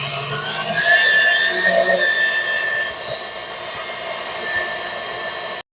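Electric hand mixer blending oatmeal spice cookie dough with vanilla in a home kitchen, a steady close whirring drone with a faint high whine running throughout before cutting off at the end.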